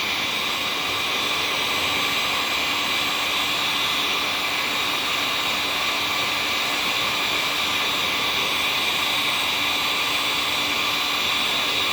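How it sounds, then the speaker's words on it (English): A heat gun blasts hot air onto a lightsaber hilt to melt glue, producing a loud, constant roaring whoosh that holds steady throughout with no pauses. "Right after I blasted it with a little bit of heat."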